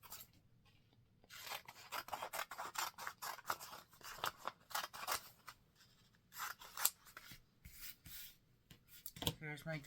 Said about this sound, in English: And I'm going to cut this right here